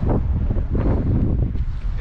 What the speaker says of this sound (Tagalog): Ang lamig naman ng hangin.